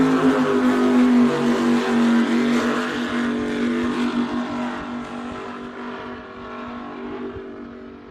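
Supercat racing powerboats roaring past on Lake Macquarie during a Supercat Extreme and Supercat 600 race, a loud sustained engine drone that slowly fades as the boats move away.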